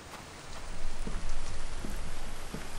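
Steady rain in The Infected survival game, a dense broadband hiss of falling drops, even and continuous, with no voices over it.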